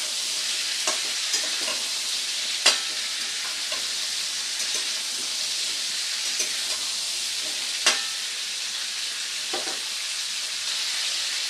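Malabar spinach stalks fry in a pan with an even, hissing sizzle, interrupted by occasional light stirring clicks.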